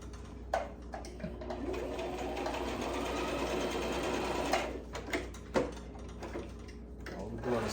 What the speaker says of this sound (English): All we're doing is sewing on the angle.